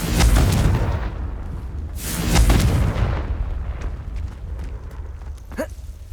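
The Confringo fire-blast spell goes off in the Hogwarts Legacy video game with two heavy booming explosions, one at the start and another about two seconds later. Each one rumbles loudly and then fades into a lingering roar.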